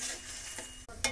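A tomato fish curry simmers in a pan and is stirred, making a soft, close bubbling sizzle with a brief scrape and clatter near the end. No one speaks.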